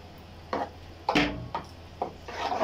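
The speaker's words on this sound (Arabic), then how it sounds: "طبعا هنقلبه كويس جدا" A spoon scrapes and stirs tomato, ginger and spice sauce in a pot in several separate strokes, soft wet rubbing sounds with short pauses between them.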